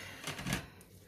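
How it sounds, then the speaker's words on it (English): Water pours from a container into a camping pot over dehydrated macaroni cheese mix and sauce powder, a short rushing splash lasting under a second, close and moderately loud. "add enough water to sort of cover it."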